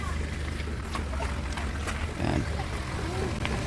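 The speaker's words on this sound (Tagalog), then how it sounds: "So ngayon papakita ko lang sa inyo yung makina natin guys. Paparinig ko yung tunog niya." A Ford Fiesta engine, recently rebuilt and installed, idles nearby with a steady low rumble throughout, and a short spoken word cuts in over it.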